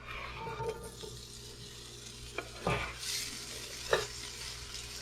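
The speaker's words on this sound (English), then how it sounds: "Remember, you want to hear that sizzle right away when you're cooking." Potatoes sizzling as they hit hot oil in a skillet, a steady close frying hiss with a few sharper crackles and stirring scrapes, no voices.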